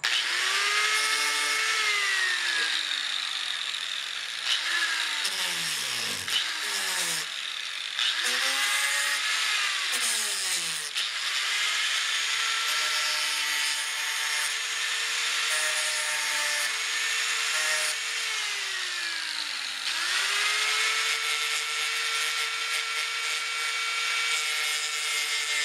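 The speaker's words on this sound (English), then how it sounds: "So, got to do a little bit of grinding on these parts here." An electric grinder works burrs off torch-cut steel parts from a PPS 43-52 parts kit, its motor whining with repeated rising and falling pitch sweeps as it bites into the metal and eases off.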